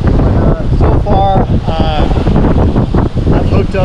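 Strong wind buffets the microphone on a South Padre Island beach during surf fishing, a loud, continuous rumble with gusting surges, as someone talks over it.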